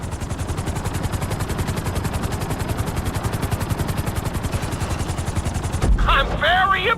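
A helicopter in GTA V sets down on a helipad, its rotor chopping in a fast, even, loud thump that runs steadily, with a brief burst of voice near the end.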